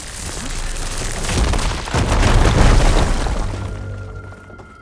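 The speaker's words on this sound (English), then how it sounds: "Explosion." A loud explosion in the video game Horizon Forbidden West: Burning Shores booms and rumbles, swelling into a heavy blast with crackling debris before fading out into a low hum.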